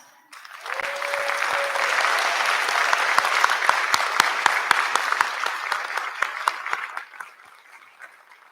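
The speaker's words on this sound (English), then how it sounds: "May we please have a round of applause." At a physical therapy white coat ceremony, an audience breaks into sustained applause with sharp individual claps standing out, rising quickly, holding for several seconds, then thinning out and fading near the end.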